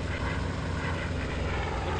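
The A-1 Skyraider's propeller aircraft engine roars in the flight game IL-2 1946, a loud, continuous, steady drone with a rough low pulsing and no voices.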